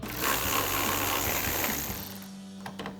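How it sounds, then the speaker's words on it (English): Ratchet with a 10mm socket backing a bolt out of the trunk area of a 2024-2026 Mustang GT while fitting a rear spoiler, a fast buzzing clicking run that slows and stops near the end. "Grab a 10mm socket and remove it."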